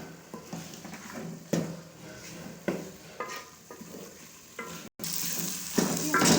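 Meat and yogurt being stir-fried for aloo gosht, a steady sizzle broken by repeated scraping stirs of a spoon in the pot, close and moderately loud, with a brief dropout near the end.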